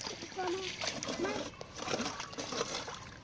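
Water is splashed by hand in a village canal while people catch fish, a few soft sloshes and splatters close by, mixed with people talking, including a voice.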